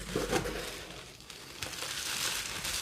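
Perfume packaging being unwrapped, a Mancera Cedrat Boise Intense box, gives close crinkling and rustling bursts of paper or plastic that rise and fall unevenly across the moment, with no voice heard.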